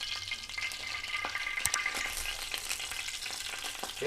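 Urad dal and chana dal fry in hot oil in a pan, giving a steady, soft sizzle with faint stirring scrapes throughout and no talking.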